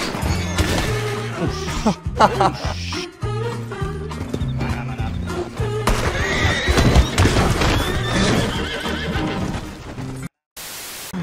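A horse whinnies amid a busy Red Dead Redemption 2 game soundscape of hoofbeats, thuds and crashes, with a voice talking and laughing over it.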